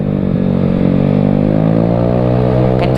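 A Vespa Sprint scooter with a fully tuned Kirian setup accelerates at full throttle close by, its engine note climbing steadily in a loud, buzzing rev with no talk over it.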